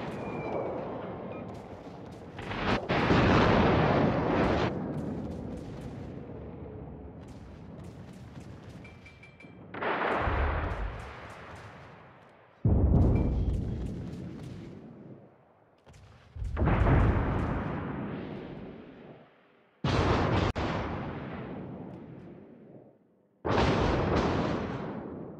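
Warship naval artillery in a tier 10 World of Warships clan brawl: about seven heavy booming salvos at irregular intervals of a few seconds, each loud and sudden, then decaying into rolling rumble.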